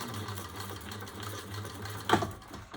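A sewing machine stitches a quick row on water-resistant canvas, a steady close mechanical whir with fast rapid needle chatter and a brief louder clunk near the end.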